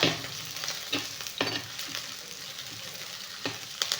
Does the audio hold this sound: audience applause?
no